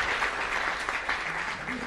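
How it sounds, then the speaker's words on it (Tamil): Enthusiastic audience clapping at a Tamil pattimandram debate during a festival, a dense continuous wash of applause with some faint voices beneath it. "நல்ல கைதட்டுங்க."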